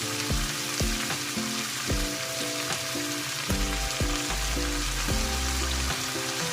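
Pork liempo and string beans sizzle and crackle in a pan with oyster sauce for adobong sitaw, a busy close frying hiss broken by repeated clanks and scrapes of a utensil against the pan.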